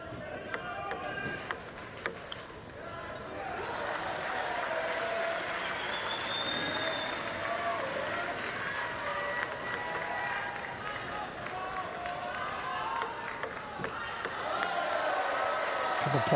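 A crowd applauds and cheers at a standing para table tennis singles quarterfinal, a sustained indoor roar of clapping and voices rising over several seconds, with sharper claps and arena noise mixed in.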